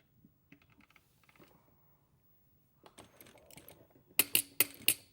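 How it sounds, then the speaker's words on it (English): A sewing machine top stitching around a pocket runs in short, faint bursts of quick mechanical clatter, then ends in several sharper, louder clicks close by, with no talking. "We're now going to top stitch around the pocket."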